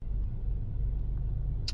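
A car engine rumbles steadily, a low, continuous drone close by with no talk and a brief sharp noise at the very end.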